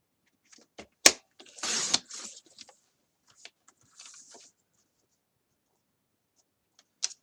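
Scissors snipping through a 3x3 paper tag, a few short crisp cuts and rustles close by, with quiet pauses between them and one last snip near the end.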